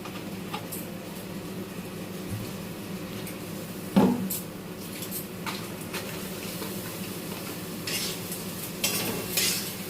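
Dal being stirred into a hot pan for a tadka sizzles steadily, with scraping spoon strokes and a clank of cookware near the middle and again at the end, and no voices.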